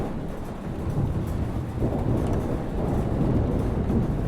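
A thunderstorm in the video game Life is Strange roars on as a steady wash of heavy rain with low rumbling thunder underneath, loud and continuous with no voices.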